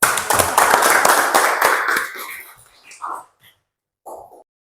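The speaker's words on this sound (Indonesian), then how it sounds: "Aplaus buat kita semua." A live audience at an evening teaching session breaks into applause: about two seconds of dense, loud clapping that thins out, then a few scattered claps and light stray sounds trail off into near silence.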